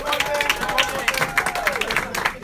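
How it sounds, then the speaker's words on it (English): A group claps for a colleague at a staff gathering, the sharp, rapid hand claps close and lively, with a voice talking and some crowd chatter mixed in. "let's give a round of applause"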